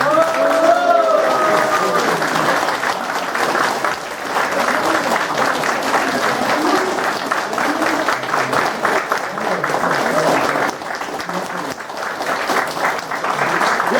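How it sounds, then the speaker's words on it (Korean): An audience claps and applauds steadily at a Korean election victory event for a parliamentary win, a loud, dense burst of clapping that runs throughout, with a voice heard briefly at the start. "뒤에서 박수 한 번 쳐주세요"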